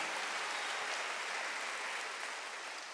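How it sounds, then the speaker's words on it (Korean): Church congregation at a Wednesday worship service bursting into loud, sustained applause, a dense steady wash of clapping from many hands filling the room without a break. "박수 하세요."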